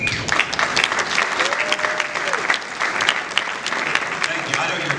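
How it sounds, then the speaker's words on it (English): Audience applause at the Bix Lives Award ceremony, a dense and sustained crackle of many hands clapping at an even level throughout, with a voice faintly audible beneath it. "I know you're clapping for Mr. Kraft, not me."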